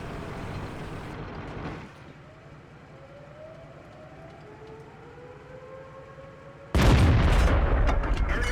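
A tank shell slams into a T-29 tank in a battle game, first as muffled low rumble and then as a sudden loud blast near the end, with a faint rising whine in between.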